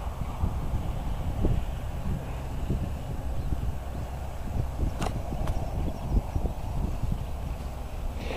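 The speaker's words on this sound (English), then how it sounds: "The wind's acting a little bit erratic, but you can see it's going all right." Gusty, erratic wind buffeting the microphone outdoors while an arch kite self-launches, a constant low rumble with uneven surges and a couple of faint sharp ticks, no voices.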